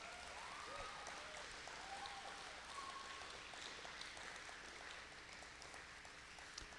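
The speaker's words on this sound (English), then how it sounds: "Let's give them one more round of applause." A debate audience claps in a steady round of applause, moderately distant and fairly quiet, a dense wash of overlapping hand claps lasting several seconds with a few faint vocal sounds mixed in.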